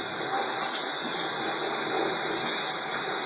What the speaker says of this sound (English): Wash all the cookie cutters.